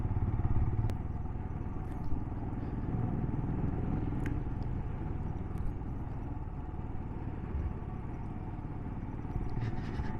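A Royal Enfield Himalayan motorcycle hums along a winding mountain road of hairpin bends, its steady engine drone low and constant with faint clatter and occasional wind buffeting throughout.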